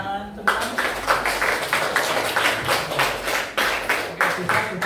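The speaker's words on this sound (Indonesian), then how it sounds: "Bisa tepuk tangan semua." Classroom students clap their hands in a steady rhythmic beat, a quick train of sharp, evenly spaced claps, with faint voices underneath.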